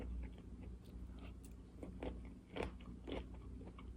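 Close, quiet crunchy chewing of cooked broccoli that still has some bite, with a series of irregular sharp crunches and bites over a soft background.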